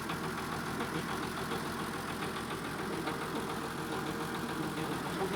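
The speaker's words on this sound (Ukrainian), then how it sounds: "Ні, ну працює двигун прикольно." A YuMZ diesel tractor engine idles steadily nearby, a constant low rumble with a faint knocking pulse, no vibration and no breaks.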